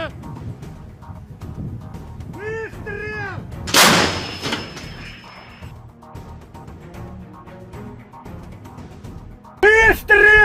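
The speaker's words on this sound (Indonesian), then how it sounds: "Pasukan artileri dengan cepat mengarahkan senjatanya ke sasaran dan menghancurkannya dengan tembakan cepat." Russian artillery fires rapidly at targets: one loud, booming blast stands out in the middle, and another sharp burst comes near the end, with voices talking throughout.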